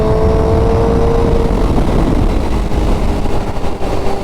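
A Honda CBR1000R Repsol motorcycle cruises along the Pacific Coast Highway with a loud, continuous engine drone and steady wind rush throughout, with no voices.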